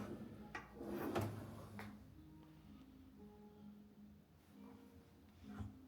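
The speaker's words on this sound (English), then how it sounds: "And again, these are all soft closed doors." Soft-close kitchen cabinet doors in a model home shut with muted thuds and a few light clicks, close by, over steady room hum and faint handling noise.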